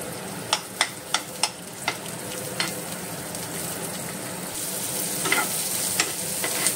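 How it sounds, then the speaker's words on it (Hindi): Roughly chopped onion frying in a tablespoon of oil for Goan chana bhaji: a steady close sizzle, with a quick run of sharp stirring clicks early on and a few more near the end. "आतां हांव भाजून घेता हो कांदो जो रफली चॉप केलो चोय हो कांदो घालून भाजिता"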